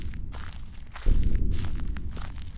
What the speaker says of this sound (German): Oh, es sind unsere eigenen Schritte, die wir hier hören.